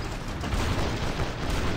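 Splinter MK3 shotguns fire in the War Robots video game, a dense steady barrage of blasts and mechanical clatter that fills the whole stretch without a break.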